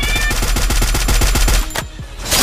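Rapid automatic gunfire from the Free Fire mobile game rattles out in a loud, fast burst of evenly spaced shots. It breaks off abruptly, then a brief louder blast follows.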